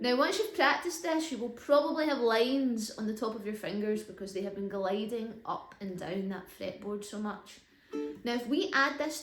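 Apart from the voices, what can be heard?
None of the usual background noises is heard.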